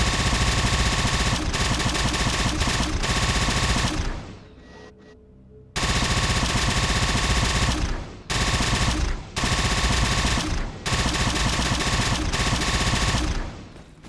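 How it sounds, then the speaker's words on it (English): A Halo Infinite vehicle turret fires in a video game, pouring out loud sustained automatic bursts with one brief lull and several short gaps, close and unbroken by talk. "So I added the Halo Infinite turret"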